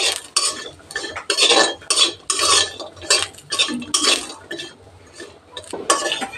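Lentil dumplings (bori) frying on low heat in mustard oil are stirred in a kadai, giving repeated close metallic clinks and scrapes of a utensil in bursts over a soft background sizzle.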